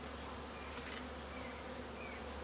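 At an open beehive, honeybees make a soft, steady buzz under a constant high whine, with faint passing buzzes and no voices.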